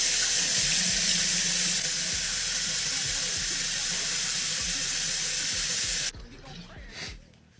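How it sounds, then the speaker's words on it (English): A bathroom tap runs steadily into a sink during face washing, a loud continuous hiss of flowing water that cuts off abruptly near the end, followed by faint dripping and handling sounds. "go wash your face"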